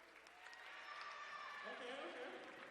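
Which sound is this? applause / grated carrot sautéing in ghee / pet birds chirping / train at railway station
applause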